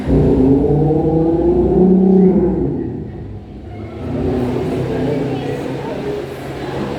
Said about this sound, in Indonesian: itu suara motor standar pabrik cuma 1 unit itu yang lewat